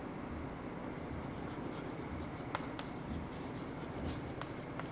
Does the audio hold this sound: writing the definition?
yes